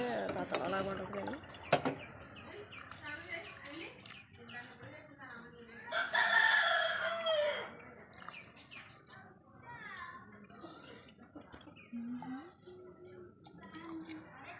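A rooster crows and clucks nearby, with loud calls at the start and again midway, while a person talks over the cooking of chicken pulao.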